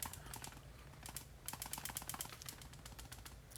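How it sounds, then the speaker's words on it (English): Bolt of an AAP01c airsoft pistol rattling, a quick run of faint, close, dry plastic-metal clicks and ticks in irregular bursts. "the bolt is very slightly more rattly on the AAP01c"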